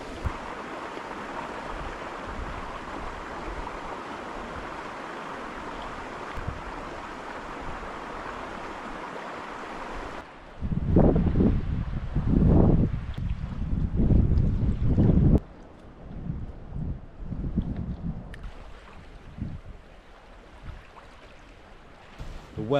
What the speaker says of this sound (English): The weather has seemed to change a little bit and get a bit more windier